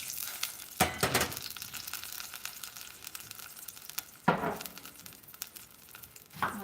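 Broth splatters and sizzles in a hot pan, with two sharp bursts of spitting crackle over a steady, quieter fry.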